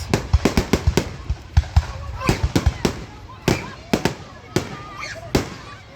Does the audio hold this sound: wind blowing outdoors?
no